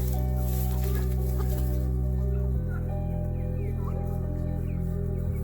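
Young chicks on a farm clucking and peeping among hay in a steady chorus, with a continuous low hum running underneath throughout.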